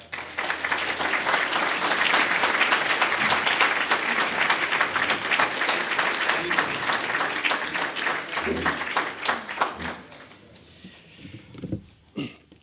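Audience applause welcoming Professor Larry Lessig to a talk on taking money out of politics, a sustained dense clapping from a large crowd that holds steady for about ten seconds before thinning out into scattered claps.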